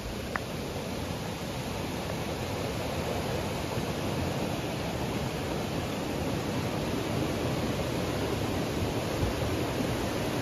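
Crystal Cascades, a waterfall on a New Hampshire hiking trail, roars as a steady, loud, unbroken rush of falling water that fills the whole stretch.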